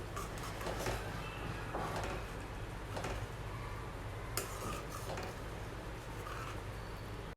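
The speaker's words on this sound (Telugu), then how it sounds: "ఫ్రెష్ క్రీమ్ యాడ్ చేసిన తర్వాత నెక్స్ట్ మరొకసారి అంతా ఇలా కలిసేటట్టు మిక్స్ చేసుకోవాలండి" A spoon stirs fresh cream into paneer butter masala in a pan, giving soft scraping and occasional metallic clinks over a low, steady background, close and fairly quiet.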